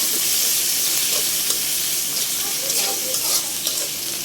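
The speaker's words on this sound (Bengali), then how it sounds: "এগুলো সব একসাথে এখন ভেজে নেব" Spices for a spicy chicken curry sizzle steadily in a hot pan, with repeated scrapes of stirring over a constant bright hiss of frying. No voices are heard.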